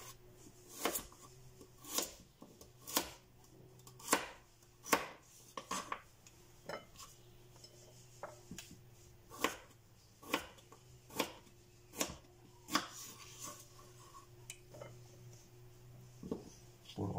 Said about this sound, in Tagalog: iwi po natin ating gulay,